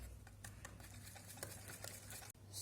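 Crepe batter for banana Nutella crepes whisked in a bowl, with quick, faint, rhythmic tapping and swishing strokes at close range and no talking.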